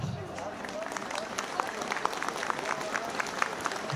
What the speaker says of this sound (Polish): Myślę, że gorące brawa się należą.